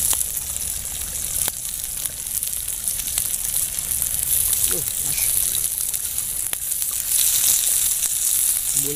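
Spice paste with shrimp paste sautéing in a pan, giving a loud, continuous hiss and sizzle with faint spoon scrapes, no voices over it.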